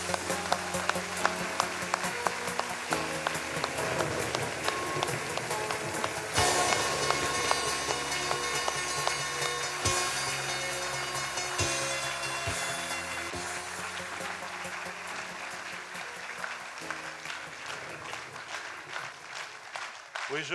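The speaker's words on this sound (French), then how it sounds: "Je vous demande d'applaudir comme il se doit, s'il vous plaît, mesdames, messieurs, Solène Afraoui." Audience applause at a municipal New Year's wishes ceremony honoring local talents in Villejuif, a sustained dense clatter of clapping filling the hall for about twenty seconds, steady and fairly loud with occasional swells.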